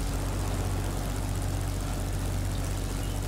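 Steady propeller aircraft engine drone from a bomb-carrying fighter plane in the WarPlanes video game, a continuous low hum with a constant pitch that holds unchanged throughout, with no talking.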